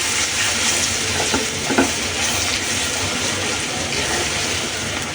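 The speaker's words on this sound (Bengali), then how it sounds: "জিরে ধনিয়া দিচ্ছি ভালো করে ভেজে নেব" Cumin and coriander fry with green chili in a pan, producing a loud, constant sizzle close by, with a few soft scrapes of stirring near the second mark and no one speaking.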